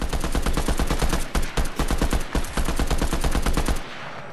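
An assault rifle in a video game fires in long, rapid automatic bursts with brief gaps, loud and close, before cutting off into quieter ambience.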